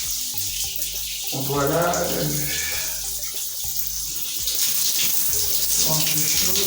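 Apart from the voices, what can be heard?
running tap water for washing hair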